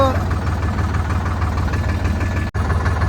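A tractor engine drives a rotavator, running with a loud, steady, rumbling chug that continues throughout apart from a brief cut near the end, with a voice talking over it.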